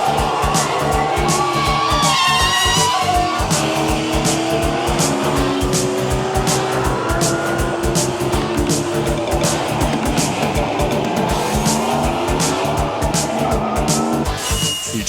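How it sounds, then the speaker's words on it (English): Stock cars race on an oval track at over 100 mph. Loud engines roar and whine close by with rapid pulsing passes, tire squeal and shifting pitch throughout. "The cars race against each other and travel at well over 100 miles per hour."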